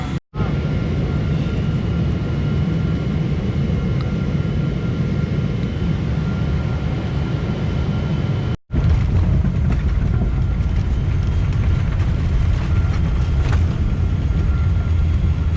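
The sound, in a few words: airplane flight and landing in Japan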